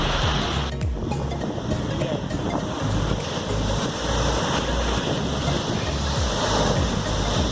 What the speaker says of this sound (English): And the waves are quite big.